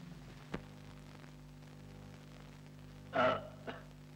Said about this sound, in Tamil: மார்க்கண்டேயரே நீர் விட்ட ஏப்பம் ஏழாவது லோகத்தில் கேட்கிறது